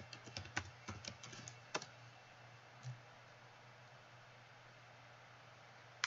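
Computer keyboard keys tapped in a quick run of about a dozen light clicks for roughly two seconds, then a single soft press and near silence with a faint steady hum.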